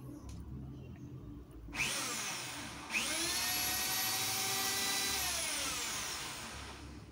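A Dewalt D25123 rotary hammer drill whines into motion, cuts out briefly, then restarts and runs steadily at a high-pitched motor drone for several seconds.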